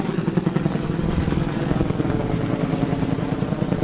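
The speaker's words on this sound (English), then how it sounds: "Helicopter in the sun." A loud, steady mechanical drone with a rapid rhythmic chop, a helicopter running close by at a wildfire, continuous throughout with no voices.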